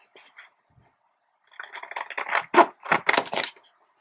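Scissors snip through paper for a handmade 6x6 scrapbook album, making a quick run of close, crisp cuts after a few faint handling rustles.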